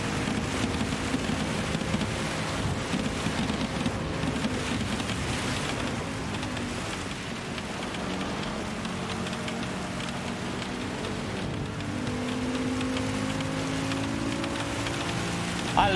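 Steady wet-weather rain hiss fills a race in Gran Turismo 7, a broad constant wash running unbroken alongside engine drone, with no talk over it.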